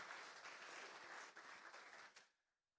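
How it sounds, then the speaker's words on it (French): Conference audience at a closing keynote breaks into loud, full applause that carries on steadily, then fades quickly into near silence. "vous allez pouvoir aussi applaudir"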